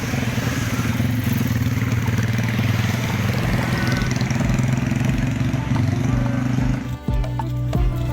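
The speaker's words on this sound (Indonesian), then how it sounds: "Arak-arakan dilakukan bersama keluarga dan tetangga menggunakan sepeda motor." Motorcycles ride in a procession of family and neighbors escorting a returning Hajj pilgrim home in Jember, East Java, a dense continuous roar of engines up close with clattering, dipping sharply near the end.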